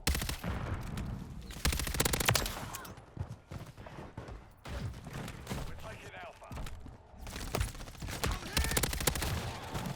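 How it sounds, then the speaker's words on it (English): Shotgun blasts and rapid gunfire in Modern Warfare 3 multiplayer, dense bursts of loud shots over continuous game noise, with someone talking quietly underneath. "Oh, he got side blasted with the shotgun."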